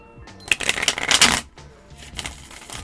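Tarot cards being shuffled by hand, a dense, loud riffling flutter lasting about a second, then a softer second burst of card slaps and rustling, heard up close with no talk over it.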